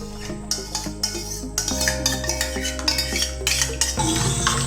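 Agar agar jelly being stirred into milk in a pot, with repeated close scraping and clinking strokes of a spoon against metal over a steady hum of sustained background tones, and no voices.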